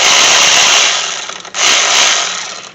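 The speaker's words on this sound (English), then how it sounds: "we're going to remove the bolt right here" A power tool spins out a brake caliper bolt on a 2017 Toyota Camry, a loud, close, high whirring burst that cuts out briefly and then kicks in again for a second run.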